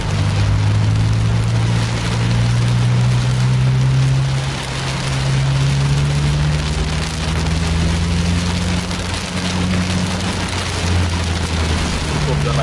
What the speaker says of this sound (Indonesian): Cukup deras hujan.